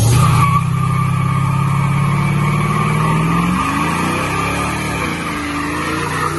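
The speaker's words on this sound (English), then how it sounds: "I'll show you the video of it doing a burnout." A Dodge Challenger with a Sure Grip rear end roars through a burnout, its engine droning loudly as the tires squeal and skid continuously, the pitch rising and wavering toward the end.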